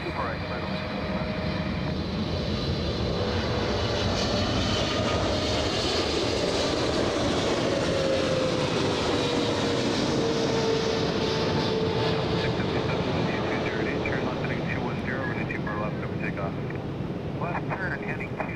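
A Boeing 777 jet at the LAX runway roars in a loud, continuous rumble with a slowly shifting whine as it passes, holding for the full length with no talking.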